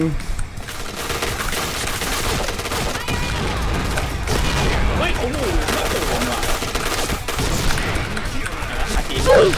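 Rapid bursts of automatic gunfire from the shooter game Point Blank rattle continuously and loudly, with booms and shots layered over a dense battle din while someone talks over the action.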